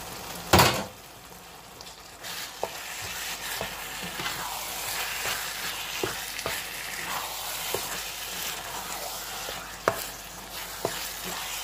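Minced meat with a spoonful of tomato paste browns in a pan, a steady sizzling hiss with occasional clicks and scrapes of stirring and a sharp clatter near the start.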